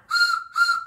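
A vocal train whistle imitation in a call-and-response chant, two sustained whistling blasts in quick succession, clear and close with a short gap between them.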